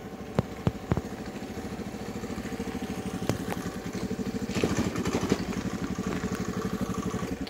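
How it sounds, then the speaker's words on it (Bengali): A scooter engine thuds with a rapid, even pulsing beat, close and steady, with a few sharp knocks early on and the rhythm growing rougher and louder midway, with no one talking. "গাড়ি ধক ধক ধক ধক করছে।"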